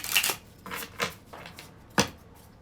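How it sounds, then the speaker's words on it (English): Tarot cards being shuffled in several quick riffling bursts, close by, with short pauses between them and no talking. "So the cards are all shuffled"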